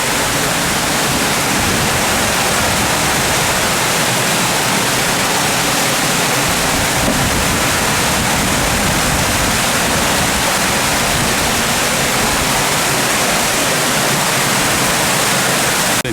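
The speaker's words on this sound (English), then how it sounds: "Walk out on those little steps, and then the water just goes down." Water pours down a set of small steps at an outdoor memorial in Taiwan, a loud, unbroken rushing hiss that stays steady throughout, with no talking.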